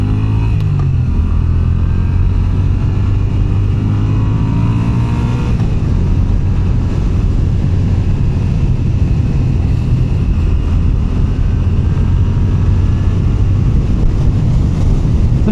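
A 2022 Moto Guzzi V9 Bobber cruiser pulls away and accelerates, its engine droning loudly and steadily with rising revs, heard close up under heavy wind rush.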